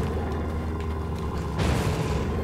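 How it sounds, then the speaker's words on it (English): Bombs thrown at a boss in the Oceanhorn video game, heard as a steady low rumble that swells into a louder, brighter explosive burst about midway and then sustains. "So we're gonna chuck bombs in his general direction."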